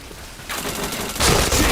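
Gunfire in the shooter game Point Blank: a dense burst of rapid shots, then a louder, heavier volley near the end, with no talking.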